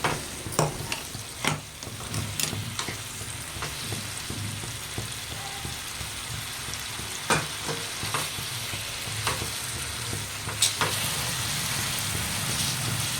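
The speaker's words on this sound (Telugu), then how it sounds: "ఇప్పుడే ఆయిల్లో వేసాం కదా, ఒకసారి బాగా కలుపుకుంటే కాసేపు మూత పెడితే బాగా డీప్ ఫ్రై లాగా అవుతుంది" Chicken pieces deep fry in oil with a dense, continuous sizzle and crackle, close up, with occasional scrapes and knocks from stirring.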